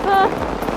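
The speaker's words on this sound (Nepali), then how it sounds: "पानी परिरहेछ" Rain falls steadily on a surface during an outdoor work trip in Nepal, a soft continuous patter over a brief stretch. A faint voice sounds at the start.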